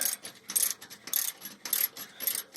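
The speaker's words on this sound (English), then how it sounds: "I'm first taking off this clamp that holds on this the hot wire" Metallic clicks and rattling come from work on the starter's hot-wire clamp on a 1978 Ford F150. The taps are close and fairly quiet, arriving in short ratcheting clusters about every half second with no talk.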